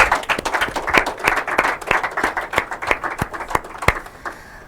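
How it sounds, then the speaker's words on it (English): Audience at an inter-collegiate quiz and debate competition applauds the debate speakers with crisp, distinct hand claps that ring out over a softer crowd clatter and taper off at the end. "Okay, warm round of applause for them one more time."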